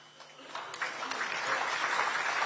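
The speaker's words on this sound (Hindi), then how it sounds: "नहीं अभी आप ताली बजा रहे हैं, ताली मत बजाइए" Rally crowd clapping in steady, dense applause that swells and holds, close and loud, with a faint voice underneath.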